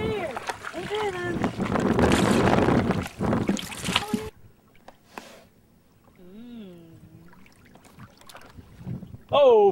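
A canoe is paddled on a lake, with splashy water and wind noise over the first four seconds, then quieter lapping while people talk and a voice is heard.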